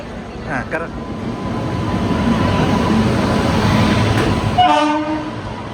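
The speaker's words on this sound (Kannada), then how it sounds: "2-3 ಗಂಟೆಗೆ ಟ್ರೈನ್ ಬರ್ತಾ ಇದೆ ವಿಶ್ವಮಾನವ ಎಕ್ಸ್ಪ್ರೆಸ್" The Vishwamanava Express pulls into Davangere railway station with a steady loud rumble of wheels and cars, and a horn blast sounds near the end. Voices can be heard at the start.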